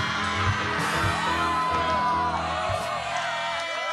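A loud studio audience cheers, whoops and yells continuously at a comedy show, with overlapping shouting voices and a sustained roar of excitement.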